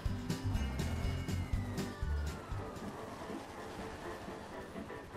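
A train passing in the game GTA V, with a steady rolling rumble and rhythmic clacking of wheels on rails, loud at first and then fading slightly as it continues.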